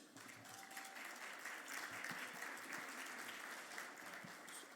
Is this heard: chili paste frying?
no